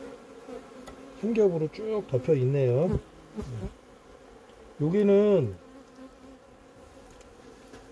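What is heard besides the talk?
honeybees buzzing at an overwintering hive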